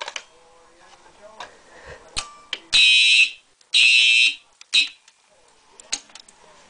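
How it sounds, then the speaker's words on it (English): Smoke detector sounding during a home alarm system test, two loud shrill electronic beeps about a second long each, then a shorter chirp, with softer clicks and tones scattered around them nearby. "Finally, the smoke detector."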